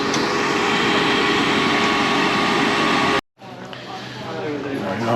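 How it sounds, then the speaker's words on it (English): Lauda aeroplane at Malaga Airport after landing: a loud, steady broadband engine roar that cuts off abruptly, followed by quieter airport noise with a low rumble gradually building back up. "And it was a Lauda aeroplane"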